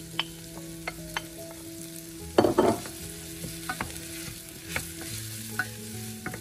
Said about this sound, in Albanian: Pasi karrota dhe qepa janë skuqur së bashku,